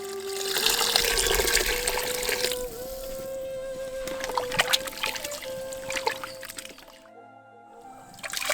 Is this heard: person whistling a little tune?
no